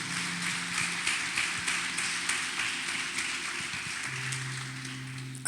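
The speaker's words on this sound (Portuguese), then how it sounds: "Dê um aplauso a Jesus, você que está entendendo." A church congregation applauds during a Portuguese-language sermon, scattered clapping over a low sustained organ or keyboard tone, fading slightly before a sharp burst at the very end.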